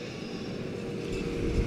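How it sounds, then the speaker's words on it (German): A loud tractor passes by in the Weinviertel farming region, its low rumble building and growing heavier toward the end of the short stretch. "jetzt kommt der Traktor"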